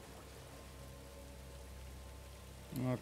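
Soft, steady rain patters in Star Wars Jedi: Fallen Order, quiet and continuous, before a voice briefly cuts in at the end.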